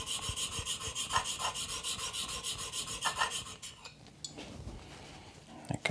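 A knife blade is drawn back and forth over a Scary Sharp abrasive setup, a steady close rasping scrape in even rhythmic strokes that stops partway, followed by a few light metallic taps and handling sounds.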